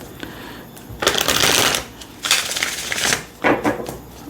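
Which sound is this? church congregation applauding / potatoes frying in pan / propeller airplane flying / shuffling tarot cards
shuffling tarot cards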